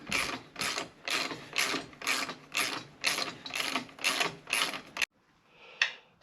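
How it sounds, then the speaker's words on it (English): Ratchet wrench tightening an engine guard bolt on a Triumph 1200 Explorer motorcycle, a close, steady run of about nine rhythmic clicking strokes, followed by silence and one last faint click. "I'm going to bolt down this one."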